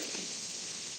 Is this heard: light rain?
yes